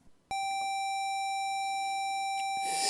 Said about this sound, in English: which creates a 769 Hertz square wave that,